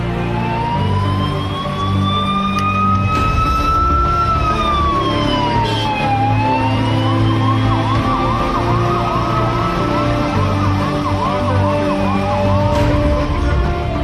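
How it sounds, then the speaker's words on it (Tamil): An ambulance siren carries the body of Manmohan Singh from AIIMS hospital at midnight, wailing loud and near in rising and falling sweeps, then switching to a faster yelp, over an engine rumble. "நள்ளிரவில் எய்ம்ஸ் மருத்துவமனையிலிருந்து ஆம்புலன்ஸ் மூலம் மன்மோகன் சிங்கின் உடல் அவரது வீட்டிற்கு எடுத்துச் செல்லப்பட்டது"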